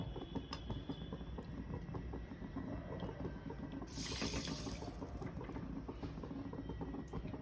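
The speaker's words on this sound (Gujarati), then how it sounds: "જેટલી ખાંડ લઈએ તેટલું આપણે પાણી એડ કરીશું" Water splashes into a pan of sugar in a brief burst of pouring amid steady kitchen background noise.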